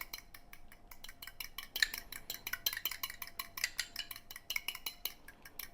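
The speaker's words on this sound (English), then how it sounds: "Okay, we're going to beat this egg." An egg is beaten in a bowl with a utensil, making a quick run of light clinking taps against the bowl's sides, fairly faint and close, with no talking.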